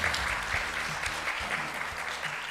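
Steady applause from an audience at an annual company meeting and awards ceremony, continuous and fairly loud throughout with no talk over it.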